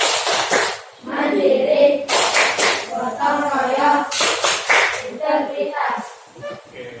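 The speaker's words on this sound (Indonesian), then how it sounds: "selanjutnya tepuk PPK" Children do the Tepuk PPK clapping chant in a classroom lesson: three bursts of sharp unison claps, each followed by chanted voices, close and lively.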